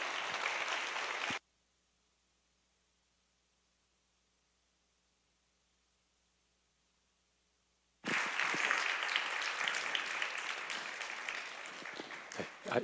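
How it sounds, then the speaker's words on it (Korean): A church congregation at a youth worship service applauds to welcome a brother to the stage. Loud crowd clapping comes in a short burst, then near silence, then a longer swell of applause. "우리 형제님 모실 때 큰 박수로 여러분들 환영해 주시기를 부탁드립니다"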